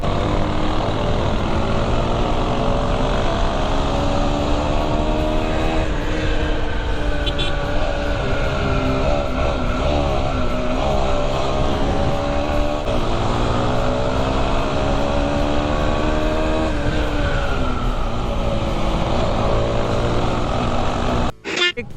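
TVS Metro 110 motorcycle running alongside a TVS Apache 160 4V and an NS 160 in a friendly race, a loud, steady engine drone with shifting pitch that rises and falls as the bikes hold speed, continuous throughout.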